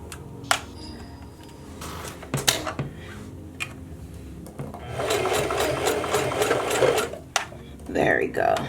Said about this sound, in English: you want to put your finger in between the double track and the single track, and you want to start sewing.